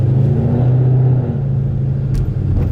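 A Ford Mustang 5.0 driving over bumpy city streets, heard as a loud, steady low engine rumble with a droning tone that eases slightly toward the end, with a few faint knocks.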